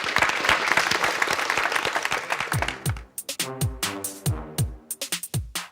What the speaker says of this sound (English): A round of applause to you.